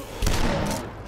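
Gunfire from the retro shooter DUSK, a burst of loud shots landing with thumping impacts among a crowd of enemies, then trailing off into game noise.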